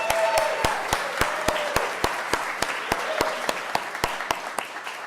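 At a holiday church concert, sharp, evenly spaced claps ring out over a background murmur, sounding like slow rhythmic clapping or a single pair of hands near the microphone rather than broad applause.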